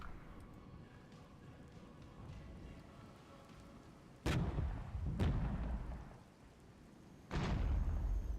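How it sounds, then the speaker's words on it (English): An artillery barrage in the strategy game Regiments: three heavy, booming impacts land a second or more apart over a low, rumbling background of distant battle noise. "Let's call in an artillery barrage."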